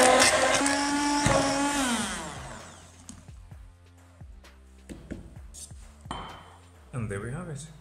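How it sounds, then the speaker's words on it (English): A hand blender whirs loudly through soy milk and oil for about two seconds, its pitch sliding down as it slows, followed by clinks and knocks of utensils and a container. "Next, I'm gonna get a hand blender and blend it."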